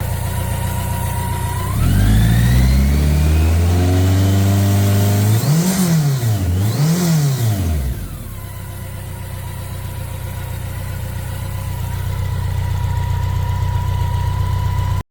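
Vintage BMW motorcycle with a sidecar, its engine idling steadily up close, then revving in two rising and falling bursts before settling back to a loud, even idle.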